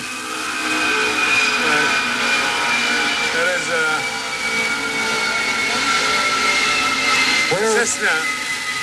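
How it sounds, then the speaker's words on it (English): A Cessna airplane drones behind a man being interviewed, a steady engine hum with a wavering pitch that rises briefly near the end, under continuous talk. "Cessna flying behind me, Cessna airplane."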